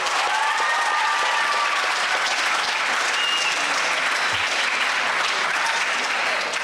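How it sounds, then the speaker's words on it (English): A crowd applauds schools at an English debate tournament final, loud, dense and unbroken clapping lasting the full stretch of nearly seven seconds, with a few faint cheers rising above it. "we want to applaud those schools"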